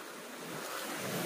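A rushing wash of large ocean waves that swells toward the end, mixed with wind blowing across the microphone.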